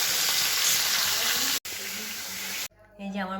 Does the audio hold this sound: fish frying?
yes